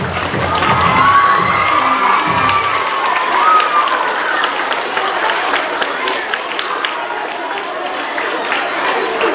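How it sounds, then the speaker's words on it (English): Elementary school children at an assembly cheer, shout and clap together in a loud, lively burst, excited voices rising over the applause before settling into a steadier crowd roar. "Give yourself a round of applause."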